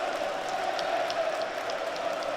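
Football crowd at a Sunderland versus Shrewsbury match, a steady distant roar of voices from a large stadium audience, fairly loud and continuous.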